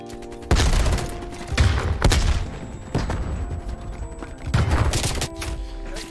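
AK fire in Call of Duty: Black Ops Cold War, loud separate bursts of automatic shots at irregular intervals, each with a sharp heavy onset and a short decaying tail, with no voices.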